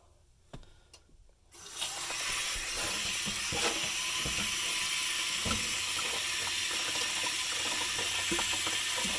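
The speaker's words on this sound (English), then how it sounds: "Let's give them a little rinse." Dirty tumbled rocks being rinsed under a running tap, with a few clinks of stone before the water starts, then a steady loud rush of water.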